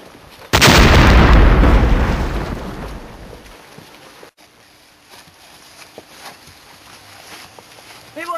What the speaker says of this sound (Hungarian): Mi volt az a robbanás?